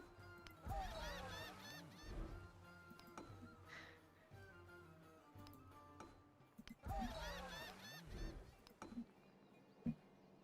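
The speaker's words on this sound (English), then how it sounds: "The seagull sound is, I'm sure, getting kind of annoying." Seagulls cry from the ambient soundscape of the strategy game Civilization VII, two bursts of layered squawking calls several seconds apart over a soft background bed, with no talking.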